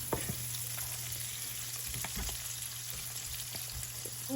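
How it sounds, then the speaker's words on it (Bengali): Shrimp and chopped vegetables fry steadily in a pan for Bangladeshi-style noodles, a continuous close sizzle with occasional stirring scrapes and no voices. "সব কিছুকে এক হচ্ছে এখন ভালো করে ভেজে নিব।"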